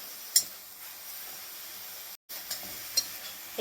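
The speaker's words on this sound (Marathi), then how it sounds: "अशा पद्धतीने हे बीट ढवळत राहायचं आहे आपल्याला" Steady soft sizzle of beetroot cooking in milk in a pan for beet barfi, with a few faint scraping stirs and brief clicks over a continuous hiss.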